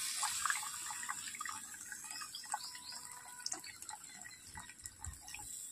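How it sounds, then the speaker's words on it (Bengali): Mustard paste being stirred into water in a bowl, faint close sloshing and dripping with soft clinks of a utensil, quiet and without voices. "আবারও জলের মধ্যে আমি সর্ষেটাকে গুলিয়ে নিচ্ছি"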